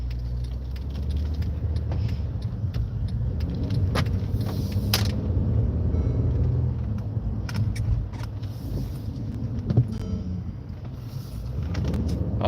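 A car drives along the road, a steady low engine rumble and tire drone with keys jangling and light rattles inside the cabin, no voices.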